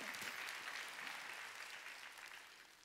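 Applause from a large church congregation at a Sunday service, continuous and steady, slowly fading toward the end.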